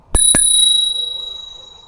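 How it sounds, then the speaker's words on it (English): The bell on an ENGWE L20 SE electric bike is struck twice in quick succession, two bright metallic dings close to the mic whose clear ringing tone lingers and fades slowly. "Nice little bell."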